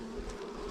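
Honeybees hum softly around an opened hive during a frame inspection, a faint, brief, steady drone with no talking over it.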